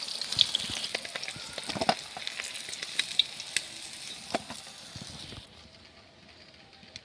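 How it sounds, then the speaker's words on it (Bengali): Katla fish pieces, fried until reddish, sizzle and crackle steadily in hot oil as they are lifted out one by one, with scattered sharp pops over a continuous hiss that drops away near the end. "মাছ কিন্তু আমার লাল লাল করে ভেজে নিয়েছি, এখন একটা একটা করে তুলে নিচ্ছি"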